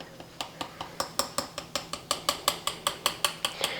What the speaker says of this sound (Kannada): ಉಬ್ಬಬಾರ್ದು ಅಂಥೇಳಿ ನಾವು ಹಿಂಗೆ ಪೋರ್ಕ್ಲೆ ಹೋಲ್ ಹಾಕ್ಕೊಳ್ಳೋಣ ರೀ.